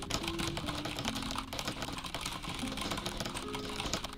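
Fast typing on a mechanical keyboard during a speed test, a rapid stream of crisp close key clacks with no pauses and no voices.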